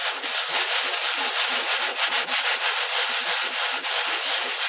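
Wood is sanded by hand with a sanding block, loud, close and continuous, rough scratchy strokes with a slightly uneven back-and-forth rhythm and no voices.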